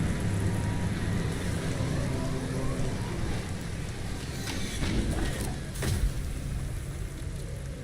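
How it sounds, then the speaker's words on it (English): Steady hiss of acid rain falling in the Mass Effect 2 video game, a dense continuous wash with low rumbling underneath and a couple of brief sharper bursts near the end. "Is that acid rain?"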